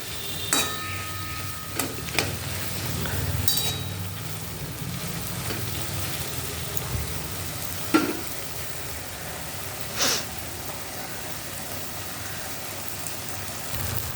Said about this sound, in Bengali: মশলাটার সঙ্গে আলু, ডাল, সোয়াবিন সবই ভাজা হয়ে গেছে।